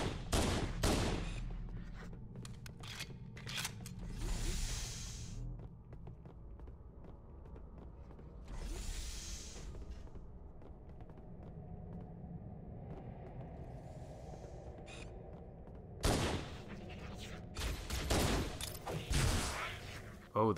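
Gunfire in the video game Halo: Combat Evolved Anniversary, with sharp bursts of shots at the start and again near the end, low rumbling and scattered impacts between them, and a speaking voice at times.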